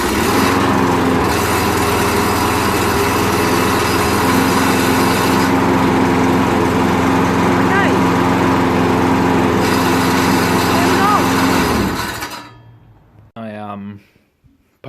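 A small lawn mower engine that had been seized now runs steadily and loudly up close with a rough, buzzing drone. After about twelve seconds it cuts out and winds down, followed by a brief faint rattle.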